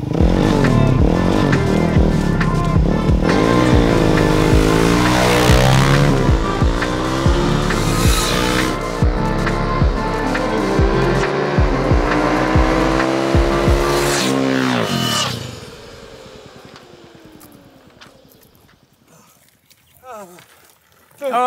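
A Surron Ultra Bee electric motorcycle drag races a gasoline bike, loud engine roar with rising and falling revs and sharp gear changes close by, then the noise fades quickly into the distance, leaving near quiet.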